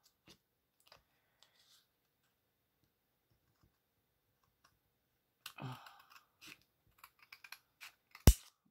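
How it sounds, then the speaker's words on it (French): A few quiet snips of scissors cutting paper after a long near-silent pause, followed by light clicks and one sharp tap. "Je vais prendre mes ciseaux"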